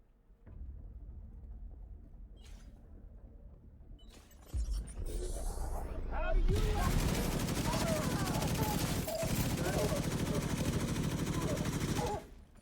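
An LMG fires in The Division 2. A few isolated shots come first, then a long, dense, loud burst of sustained automatic fire that runs for several seconds before cutting off.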